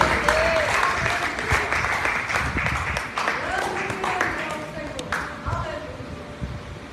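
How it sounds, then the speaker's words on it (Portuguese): A church congregation claps in praise, a dense sustained burst of applause filling the room, with voices calling out over and between the clapping. "Nas palmas louvam ao Senhor"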